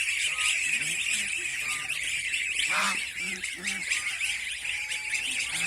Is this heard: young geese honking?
yes